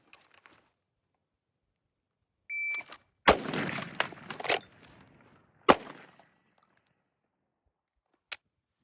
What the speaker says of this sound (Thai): ต่อไปก็จะเป็น transition นะ หนึ่งนัด เปลี่ยนไปปืนพกอีกหนึ่งนัด